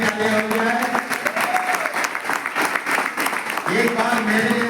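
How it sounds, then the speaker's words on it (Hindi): A large audience claps continuously at a gathering, dense applause running throughout with a speaker's amplified voice over it. "आपके लिए तालियां हो जाए। अपने स्टाफ मेंबर के लिए तालियां हो जाए।"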